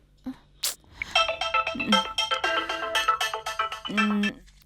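Mobile phone ringing with a bright repeating electronic melody, close and clear, several rapid tone bursts over about three seconds, with short voice sounds before and after.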